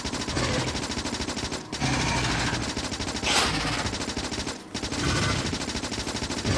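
A Factorio gun turret firing at biters, a steady, loud, rapid machine-gun rattle that runs almost continuously, broken by two short pauses.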